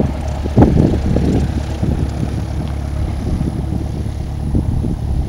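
Cessna 172 airplane landing in a crosswind at KMBO, heard from inside as a loud, steady propeller engine drone with wind buffeting and a brief thump early on, no talking.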